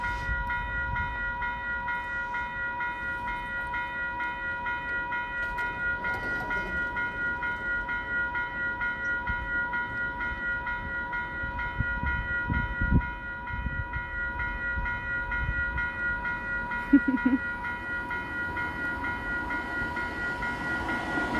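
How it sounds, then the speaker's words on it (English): A train passes close by in a steady, continuous rumble with sustained horn-like tones held throughout, loud and alone with no talk. "Just waiting for the train to go by"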